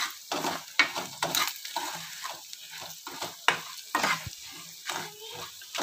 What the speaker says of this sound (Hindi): ते इसी शैल करियै मिक्स करियै भुन्नी लाओ